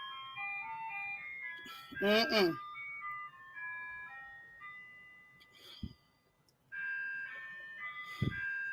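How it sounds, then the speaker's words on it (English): Ice cream truck jingle playing outdoors, a tinkly melody moving through several phrases with brief pauses and sharp background knocks, while a voice murmurs briefly. "Yes, that's the ice cream truck."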